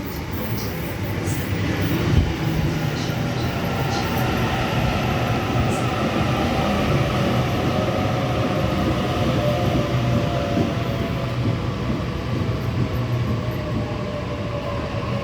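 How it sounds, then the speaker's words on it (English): A train stands at a station platform, with steady loud rumbling and rolling noise throughout, close by and continuous. "And there is a train on platform number 2."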